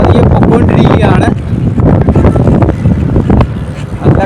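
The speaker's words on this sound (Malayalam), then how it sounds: "നല്ല കാറ്റുണ്ട്, അതാണ് പ്രശ്നം." Strong wind buffets the microphone on an open road beside cornfields where tractors pass. It makes a loud, continuous roaring rumble that swells and dips.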